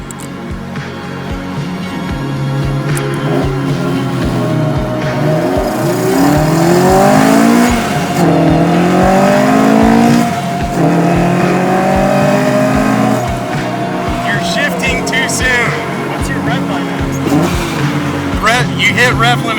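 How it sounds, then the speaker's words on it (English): A Toyota AE86 drift car engine screams up repeatedly to the rev limiter and drops with each gear shift, loud and close. The revs climb and fall in rising sweeps, with a voice talking over the engine. "You hit rev limit and then you shift."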